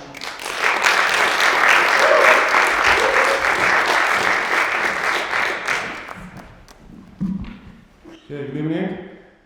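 An audience at an evening talk gives sustained, dense applause to welcome a speaker. The clapping fades after about six seconds and a voice then begins speaking close to the microphone.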